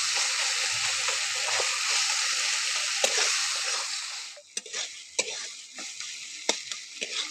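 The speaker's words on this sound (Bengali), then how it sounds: "খুন্তি দিয়ে আমি এইভাবে একটু ঝাঁকিয়ে ঝাঁকিয়ে আমি টমেটোগুলো গলিয়ে নেবো" Spatula stirring and mashing tomatoes in a hot, sizzling Bengali masala for bhindi curry: a steady frying hiss with scraping strokes, then sharper separate clanks and scrapes of the spatula against the pan near the end.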